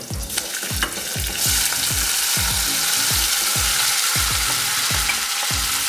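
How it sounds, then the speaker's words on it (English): Beans tossed with oregano and thyme land in a hot pan and hiss into a loud, continuous sizzle, with a spoon knocking and stirring in a regular rhythm close by and no talking. "And then we can just kind of throw those beans in."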